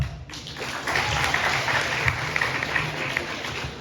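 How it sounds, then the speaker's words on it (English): A school talent-day audience applauds after a speech, a moderate wash of clapping and crowd noise that holds steady throughout, slightly muffled and distant. "you need to give yourselves a round of applause"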